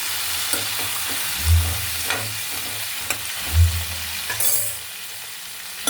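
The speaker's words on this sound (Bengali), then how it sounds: "দিয়ে ভালো করে ভাজা ভাজা করে নেবো, হালকা একটু ভাজা ভাজা করে নেবো কাঁকরোল আলুটা" Teasel gourd and potato fry in oil with turmeric, sizzling steadily while occasional scraping stirs and soft thumps break through, close by, with no speech.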